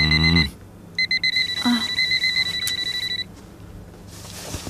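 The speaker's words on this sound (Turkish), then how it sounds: "Alarmı kapatıp çaldığını bile unutalım." A bedside alarm clock rings in a bedroom scene from a TV drama, giving a rapid run of sharp, steady electronic beeps that stop abruptly after a couple of seconds.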